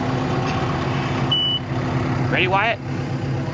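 Steady low rumble of an idling farm tractor engine nearby, with a brief high beep and a short snatch of speech over it.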